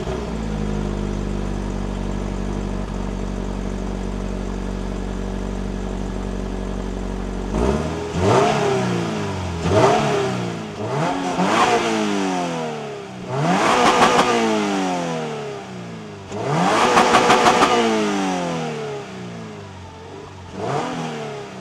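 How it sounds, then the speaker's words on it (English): A stock 2024 Subaru BRZ tS idles steadily for about seven seconds, then revs sharply four or five times, each rise and fall distinct. The engine is loud and close, and no one talks. "let's hear how this BRZ sounds stock"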